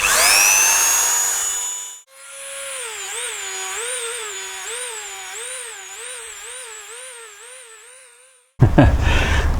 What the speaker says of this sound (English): Okay, so a little bit of dremeling later